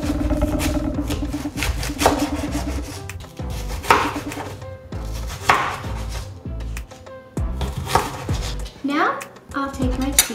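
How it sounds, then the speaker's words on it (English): A knife chops an apple into cubes on a cutting board, with close, loud, uneven strikes coming every second or so. "I'm going to now cut my apple."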